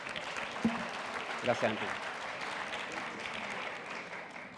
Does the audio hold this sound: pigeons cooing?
no